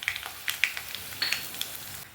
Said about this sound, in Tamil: தனியா கொஞ்சம் வறுபடணும்.